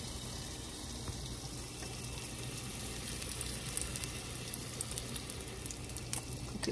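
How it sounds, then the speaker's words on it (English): Meatballs fry in a pan with a steady, soft sizzling hiss and occasional crackling pops, heard close up with no voices. "So now I'm cooking the meatball"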